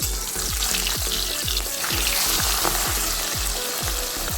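Pabda fish frying in oil in a pan, a dense continuous sizzle with a regular series of soft repeated pops or bubbles, close and steady with no voices.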